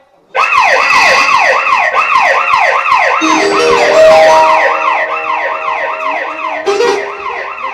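A loud, close ambulance siren wails in a steady rising-and-falling cycle, with a second lower siren tone joining partway through.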